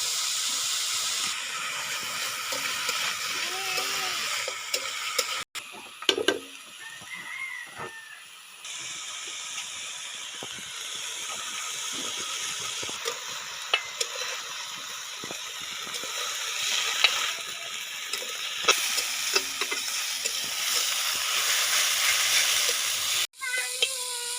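Mixed leafy greens sizzle and fry in a pan with salt and turmeric, a steady broadband crackle running throughout with occasional stirring scrapes and brief pauses.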